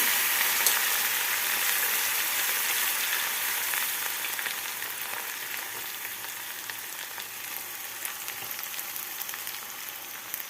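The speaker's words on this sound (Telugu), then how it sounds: "బాగా ఫ్రై చేసుకోవాలి" Onions fry in a pan in a home kitchen, giving a continuous close hissing sizzle with faint crackles that fades slightly over about ten seconds.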